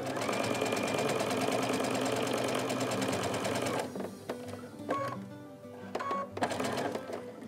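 A sewing machine stitches a quilt piecing seam with a steady rapid mechanical chatter that slows, then gives way to a few scattered clicks and short bursts as it creeps forward. Close and fairly soft, with no voices.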